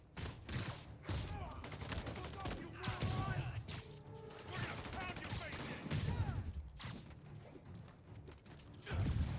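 Gunfire in Marvel's Spider-Man comes in repeated bursts with mechanical clatter and crashing impacts, mixed with game voices and other action noise.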